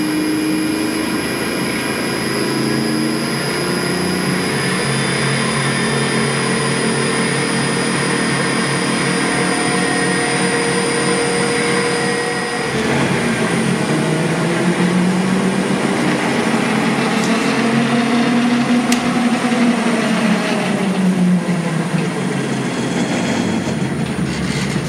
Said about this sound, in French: C'est un petit variateur qui permet de démarrer lentement et qui permet d'accélérer.